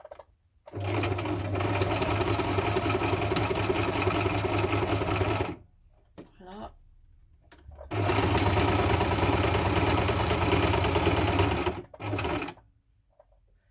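A sewing machine stitching fabric runs in two long bursts of rapid stitching, loud and close, separated by a short pause with brief clicks and a single spoken French word.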